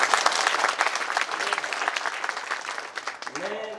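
Crowd applause at a patriotic Hindi poetry recital, dense clapping from a large audience that fades slightly before a voice begins speaking at the end.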